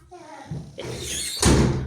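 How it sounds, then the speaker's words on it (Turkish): A door swung shut inside a home during a children's hide-and-seek game, landing as a firm thud near the end after shuffling and movement, with children's voices around it. "Kapıyı kapatın."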